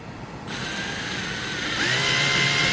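A power drill drilling into plastic on a Scion tC whines steadily, then kicks up louder and higher partway through, grinding continuously with no talking.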